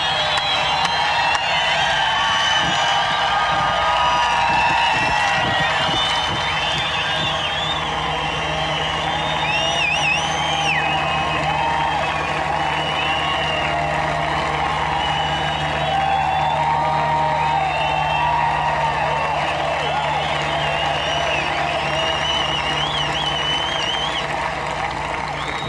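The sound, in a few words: golf gallery crowd cheering and applauding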